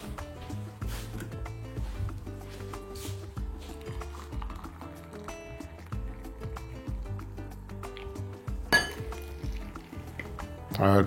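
Boiling water poured over coarse bulgur in a clear bowl, a steady liquid splash with light clinks of glass, close and moderately loud.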